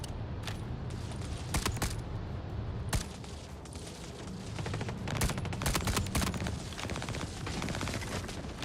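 Ship guns firing in a Star Citizen space dogfight against a Starlancer: sharp, loud bursts of rapid gunfire crack out in clusters over a steady engine rumble, some shots isolated and others in quick volleys.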